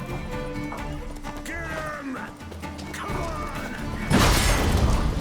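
Horses gallop in The Witcher 3 video game, their hoofbeats clopping steadily amid combat noise and music, ending in a loud crash; someone talks over parts of it.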